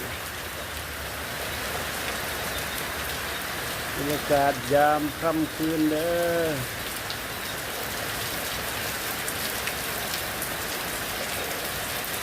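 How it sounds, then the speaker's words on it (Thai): Steady rain falls in a dense, even hiss, and someone speaks briefly partway through over the downpour. "มาแล้วครับ มาแล้ว ฝนครับ ฝนฝนครับย่อง"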